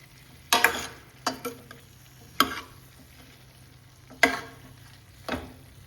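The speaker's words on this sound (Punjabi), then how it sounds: "ਹੌਲੀ ਹੌਲੀ ਆਪਾਂ ਕੜਸੀ ਦੀ ਨਾਲ ਇਹਨੂੰ ਚੰਗੀ ਤਰ੍ਹਾਂ ਨਾ ਰਚਾ ਦਾਂਗੇ ਮਸਾਲੇ ਨੂੰ ਵਿੱਚ" Ladle stirring potato and capsicum pieces into spice masala in a pan, giving a few separate scraping, sizzling strokes at an irregular pace over a low steady frying hiss, fairly quiet and close.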